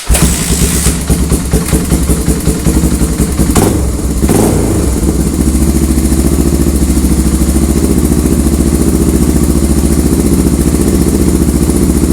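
A motorcycle with a Supertrapp exhaust is started up and settles into a loud, steady idle, a brief rough catch and rev near the start giving way to an even, throbbing rumble close by.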